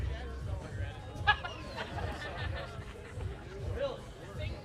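Minnesota fans in a crowd at a Kubb championship match, a low murmur of chanting and cheering with babbling voices and a few brief shouts rising out of it.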